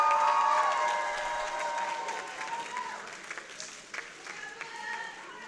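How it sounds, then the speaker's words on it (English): Loud applause from a large audience at a university social work master's ceremony, with a few cheers mixed in, gradually fading to scattered claps. "will you give them a thunderous round of applause for being here to support you throughout this journey"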